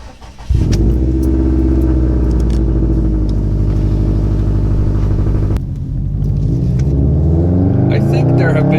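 A gasoline car engine starts and revs loudly up close, holding a deep sustained roar that dips briefly before climbing again in rising pitch.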